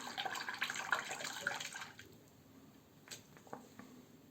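Water splashes and trickles from a tap while a Fatip Open Comb Slant razor is rinsed at a sink, a brief busy burst of running water fading to quieter drips and small splashes.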